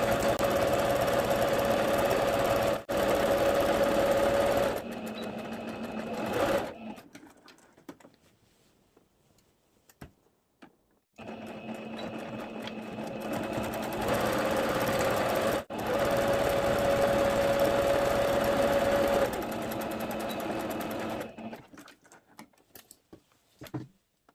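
Sewing machine stitching the side seams of a two-piece elastic-waist skirt, running in two long bursts of steady whirring with a short pause mid-run and quiet gaps between, close and fairly loud with no talking.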